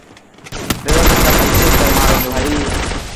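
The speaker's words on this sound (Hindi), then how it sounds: "अरे भाई साइड में फायरिंग हो रही है" A sustained burst of rapid, dense automatic gunfire in a video game roars loudly for over two seconds after a few brief preceding shots, the volley continuous and close.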